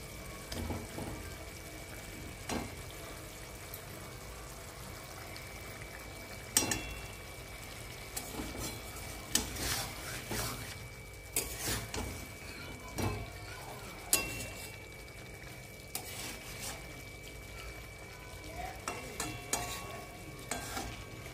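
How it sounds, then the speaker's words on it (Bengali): Fried pomfret pieces go into a simmering masala curry with boiled potatoes and get stirred, giving soft bubbling and sizzle with intermittent scraping and clinks of the spoon against the pan, with no talking. "এবার আমি এতে ভেজে রাখা মাছগুলো দিয়ে দেব।"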